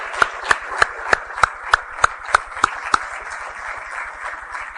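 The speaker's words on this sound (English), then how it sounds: "may I have a special clap for Nicole, please, for her everything." A small audience at a panel event gives a slow, measured round of applause: about ten distinct, evenly spaced claps, sharp and close, then the clapping stops and leaves a quiet room.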